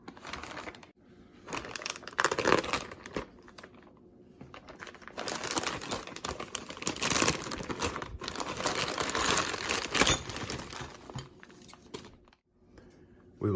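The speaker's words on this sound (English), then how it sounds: "Let's tear into this bag." A plastic parts bag for a Losi 5ive B RC car kit is torn open and crinkled up close, with irregular bursts of crackling plastic rustle and handling noise rising and falling over several seconds.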